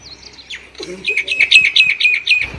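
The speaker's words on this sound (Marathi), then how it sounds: "ते पक्ष्यांचे वेगवेगळे आवाज आपल्याला ऐकायला येते" Repeated high, bright bird chirps in a quick series in a village morning, fairly close, with a short low murmur partway through.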